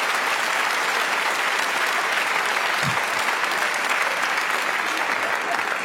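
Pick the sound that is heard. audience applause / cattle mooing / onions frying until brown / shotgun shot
audience applause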